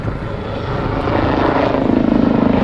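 A Westland Lynx military helicopter manoeuvres at an air display, its engine and rotor making a loud, steady roar with a faint rhythmic chop that builds over a few seconds.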